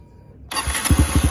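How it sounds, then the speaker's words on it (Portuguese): A 2022 Honda Start 160 motorcycle fitted with a GRS exhaust starts abruptly after near silence, the engine catching with a loud burst and settling into a rough, pulsing idle close by. "Vou ligar aqui a moto."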